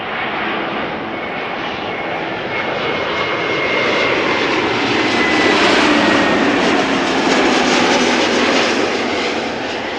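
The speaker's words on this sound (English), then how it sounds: "next up A321neo arriving from Montreal, flight 324." An Airbus A321neo on arrival at Amsterdam Schiphol, its loud, steady engine roar swelling slightly midway and holding close and continuous throughout, with no voices.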